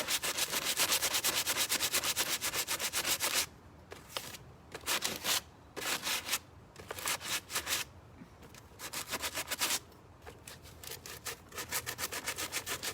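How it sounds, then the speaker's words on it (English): A table being sanded by hand, with rapid back-and-forth scratchy strokes in close, loud bursts separated by short pauses, and no voices. "Just sitting here sanding a table."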